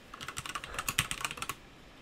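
Fingers type on a computer keyboard in a quick, uneven run of a dozen or so key clicks, close and clear, stopping after about a second and a half.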